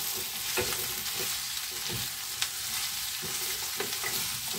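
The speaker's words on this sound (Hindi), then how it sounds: "अब हम इसमें सेम को भी डाल देंगे, अच्छे से मिला लेंगे।" Potatoes and long green beans are stirred as they fry in a pan, giving a steady sizzle with repeated scraping strokes of a spoon, close and with no talk.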